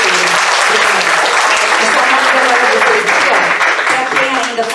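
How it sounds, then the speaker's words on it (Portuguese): Loud, dense applause from a seminar audience fills the whole stretch, steady and sustained, tapering slightly near the end. "Gente, uma salva de palmas para a Fernanda e para vocês todos"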